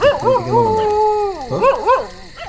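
A dog lets out a drawn-out howling bark followed by two quick yelping barks, loud and close, with no talk over it.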